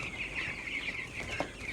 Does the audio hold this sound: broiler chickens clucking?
yes